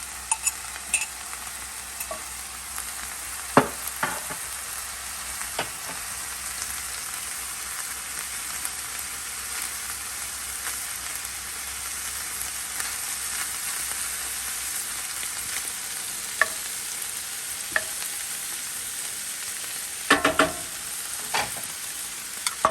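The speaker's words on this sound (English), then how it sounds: "We're going to let these eggs get started here right in the middle." Eggs frying in butter in a pan at a backyard breakfast cook give off a steady broadband sizzle, with occasional soft spatula scrapes and small pops.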